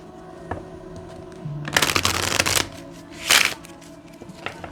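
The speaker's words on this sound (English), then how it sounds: "One more shuffle. I haven't shuffled these in a minute." A deck of cards riffled in a quick burst, followed by a second shorter shuffle, close and crisp against a quiet room.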